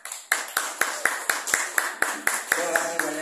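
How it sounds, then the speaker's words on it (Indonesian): Rhythmic clapping at a teachers' community learning session, crisp, evenly spaced claps about four per second, close and clear, as the room applauds a presenter. "tepuk tangan untuk Pak Iksan."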